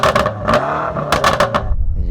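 A tuned BMW M8 with a modified exhaust, valves held open, revs in short sharp blips over a rumbling idle, loud and close, with several quick throttle stabs in a row.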